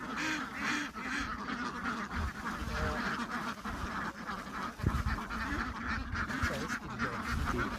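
A large flock of about 400 farm ducks quacking constantly, many overlapping calls forming a dense, busy chorus with no pauses.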